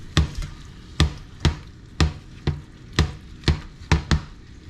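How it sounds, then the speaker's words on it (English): Saucepan with an uneven, not-flat bottom rocking on a stovetop while meat browns, giving about ten sharp knocking clatters at an irregular, roughly half-second rhythm, close and fairly loud, with no talk. "This saucepan is not entirely flat on the bottom. That's why it keeps rocking around, making all kinds of noise."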